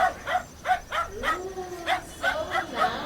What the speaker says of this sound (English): And do you know the dog sound?